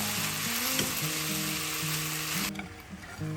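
Chicken chow mein stir-fried in a pan with garlic, a steady loud sizzle under rhythmic scraping and tossing that suddenly drops away near the end before quieter stirring resumes.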